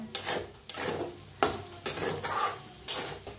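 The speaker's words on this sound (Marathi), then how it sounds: "छान असं भाजून घेऊया" Soaked sabudana being roasted in a pan for khichdi is stirred in a series of close scraping strokes with a soft sizzle underneath, about six strokes in quick succession, and no voices.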